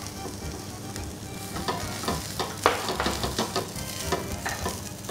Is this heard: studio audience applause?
no